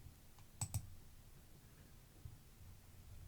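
Two quick, sharp computer mouse clicks in close succession, faint and near, with a softer click later against a quiet hiss.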